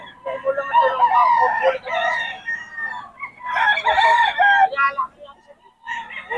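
Gamefowl roosters crow on a farm in Bocaue, several loud, close cock-a-doodle-doo calls following one another with brief gaps.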